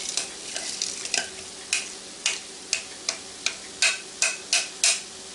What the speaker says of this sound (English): I'm mixing this in my 11-inch copper chef square pan here